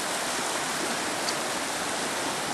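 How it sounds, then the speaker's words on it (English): A fast-running, high river during a salmon run rushes with a constant broad roar, steady and fairly loud, with no voices over it. "Boy, the river is running fast."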